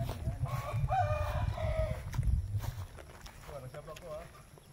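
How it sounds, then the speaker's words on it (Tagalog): Chickens cluck and crow in a busy coop, several birds calling over one another with people talking at times in the background. "Daming manok oh."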